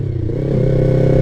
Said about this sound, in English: Little baby wheelie for you guys.